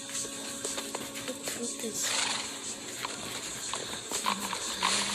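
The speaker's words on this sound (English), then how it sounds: "He leads a horse outside. Mounting it, he rides off." Rhythmic hoof clip-clops of a horse being ridden off in the Minecraft: Story Mode video game, with a whinny and other background sounds mixed in.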